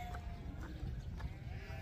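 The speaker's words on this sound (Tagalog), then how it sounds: "At sa may mga kambing" Goats at a farm in Anseong, South Korea, bleat in faint, brief calls amid busy outdoor background noise and soft shuffling.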